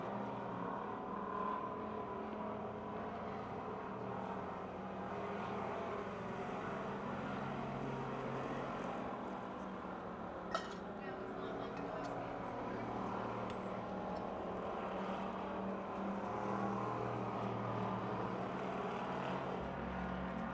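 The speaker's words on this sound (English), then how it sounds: "the Chevy Malibu passing us on the front straightaway" Race cars, including a Chevy Malibu, run down the front straightaway at Pennsylvania Motor Speedway near Pittsburgh, a continuous loud engine roar that swells and fades as the cars pass, with a brief sharp click midway.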